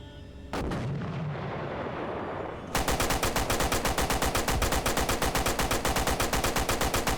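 A tank fires in a video game: a heavy boom and rumbling aftermath, then a long, rapid, evenly spaced burst of loud automatic fire continuing to the end.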